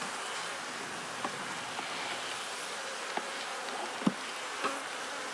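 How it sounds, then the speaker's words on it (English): Honey bees shaken off a hive frame on a day of bad weather fill the air with a steady, dense buzzing drone, broken by a few faint taps and knocks. "Shake those bees off"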